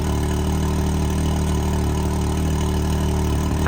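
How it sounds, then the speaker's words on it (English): A cold Can-Am Maverick X3 XRS side-by-side engine with a cat delete and mid pipe, a loud, deep, steady droning idle close by that swells slightly at the very end, with no voices. "Alright, give it some cold revs."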